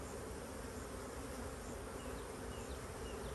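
Bees buzzing around hives at a cow pasture apiary, a dense continuous hum from many insects, faint and distant-sounding, with occasional individual bees passing nearer.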